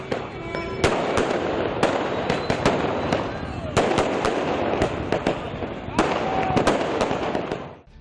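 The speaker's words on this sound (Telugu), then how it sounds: "పెద్ద పెద్ద బాంబులు పేల్చటం వల్ల వెలువడే శబ్ద కాలుష్యం" Large firecrackers and fireworks explode in sharp, loud bangs every second or so over a dense, continuous crackle of smaller bursts, with no voices.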